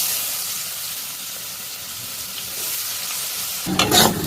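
Chopped onions go into hot oil with a bay leaf in a pan, giving a steady soft sizzle and stirring hiss, with a louder burst of frying and scraping near the end.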